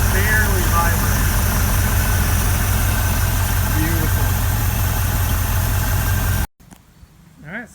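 The engine of a 1967 Chevrolet C50 dump truck idles smoothly with a steady, loud, even rumble that cuts off abruptly near the end, leaving a quieter background.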